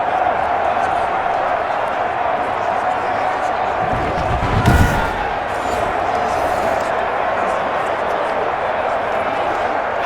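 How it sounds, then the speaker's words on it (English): Stadium crowd roar from a Madden NFL 21 Giants versus Washington Football Team simulation, a steady dense wash of noise throughout with a brief louder swell near the middle, running under a commentator's voice. "That just means this crowd's going to get even louder"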